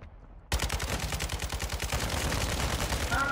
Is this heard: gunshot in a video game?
yes